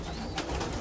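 Racing pigeons coo softly inside their loft, a low murmuring call rising briefly over steady background hiss and room noise, with no voices present.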